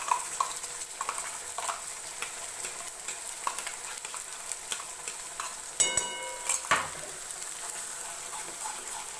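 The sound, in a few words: spice masala sizzling in a hot kadhai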